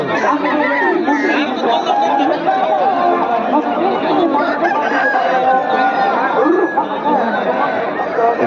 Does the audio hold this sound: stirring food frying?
no